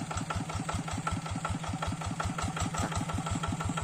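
Engine of a plough tractor labouring across a rocky ditch, a steady, fast-pulsing mid-pitched chug that runs continuously and loud at close range with no one speaking.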